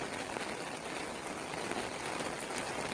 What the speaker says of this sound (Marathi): पाऊस काही थांबण्याचं नाव घेत नाही आहे